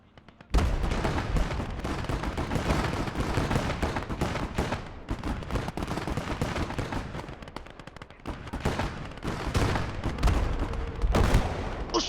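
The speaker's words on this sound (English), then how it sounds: "That was a direct artillery hit." Continuous loud battlefield gunfire and explosive artillery impacts striking tanks in a World War-style combat video game, dense barrages with sharp bursts throughout and a brief lull near the end, faint voices mixed under the din.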